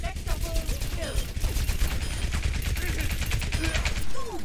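Bastion's machine gun in the Overwatch experimental mode fires as a dense, continuous stream of rapid shots under a busy game mix, loud and sustained for the whole stretch.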